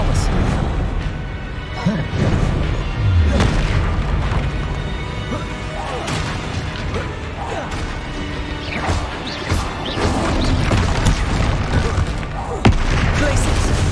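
Confringo fire-spell blasts from the Hogwarts Legacy video game on PS5, a rapid series of loud crashing explosions and impacts layered over busy battle effects, with voices calling out at times.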